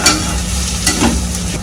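Onion with salt and turmeric frying in a pan, a loud close sizzle with a couple of scraping stirs over a brief stretch, no one speaking.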